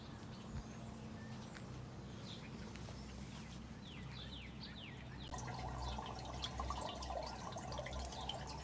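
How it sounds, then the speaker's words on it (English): Water trickling and dripping through a household drain and cleanout pipe at a rental house, a steady low wash with faint drips, birds chirping outdoors and a brighter flow picking up partway through. "we do see water flowing in the clean out at about the same rate it's going down the sink"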